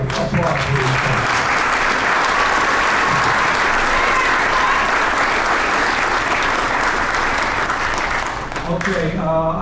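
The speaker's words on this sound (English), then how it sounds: "How about a nice warm welcome for applause, please." Hall of fame induction audience gives long, steady applause for sports inductees, a full crowd clapping loudly and evenly, with voices briefly audible at the start and end.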